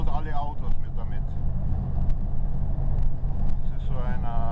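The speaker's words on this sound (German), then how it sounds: "So beschleunigen die Diesellaster bei uns, siehst du? Der macht den vollen Hammer und der überholt alle Autos mit damit." A diesel truck accelerates hard on the Alaska Highway, its engine a loud, steady low roar that fills the whole stretch, with people talking over it near the start and again at the end.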